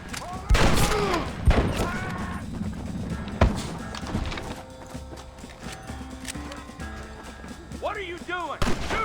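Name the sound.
gunfire in Red Dead Redemption video game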